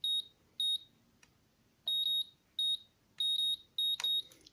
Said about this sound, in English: So each time I center these sticks, you will hear the beep.